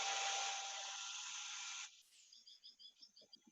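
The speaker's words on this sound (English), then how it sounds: "So I'll turn on my hairdryer now." A handheld hair dryer blows a steady, loud airy rush for nearly two seconds, then cuts off, leaving faint chirping and soft clicks in a quiet room.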